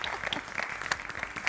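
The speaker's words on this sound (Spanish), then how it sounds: "Un aplauso." A television studio audience on an Argentine talk show breaks into applause, brisk, even clapping filling the short stretch at a moderate, slightly distant level.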